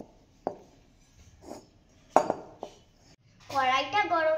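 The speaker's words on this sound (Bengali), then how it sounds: "এবার আমি উনুনে কড়াইটা চাপিয়ে নেব" A metal wok (kadai) is set down on a kitchen stove with a few sharp clanks and knocks, and a voice then talks over it near the end.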